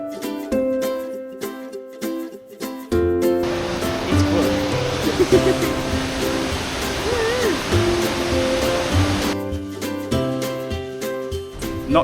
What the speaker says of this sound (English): it sounds like the water is rushing through the rocks down there